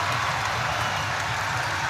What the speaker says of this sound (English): Great crowd.